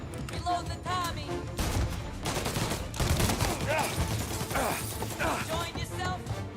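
Tommy gun fire in the video game Mafia, with rapid automatic bursts and crashing impacts repeating loudly throughout, under intermittent talking voices.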